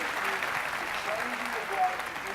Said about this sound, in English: Round of applause for the drum line, guys.